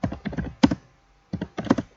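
Computer keyboard typing while writing a program, two quick clusters of crisp close keystrokes separated by a short pause.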